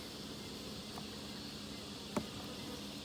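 Honeybees drone steadily around an open beehive while frames are lifted out one at a time during an inspection, a continuous close hum with a brief knock partway through.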